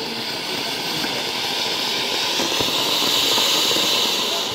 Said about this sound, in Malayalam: എല്ലാവരും കൂടെ കമ്പിത്തിരി കത്തിക്കുന്നതാണ്.